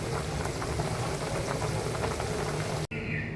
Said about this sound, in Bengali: বলক এসে গেছে, একটু ঘন ঘন বলে নামিয়ে ফেলবো মাংসটা